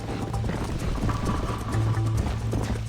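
Hooves of a galloping horse in Red Dead Redemption pound in a quick, steady clip-clop, close and fairly loud, over a faint background hum.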